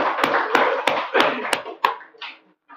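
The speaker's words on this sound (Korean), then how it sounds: "우리 하나님께 박수를 드리는 거예요." Church congregation clapping in unison during a Sunday morning worship service, six sharp, evenly spaced claps at a steady rhythm, then a few softer scattered sounds as it trails off into quiet.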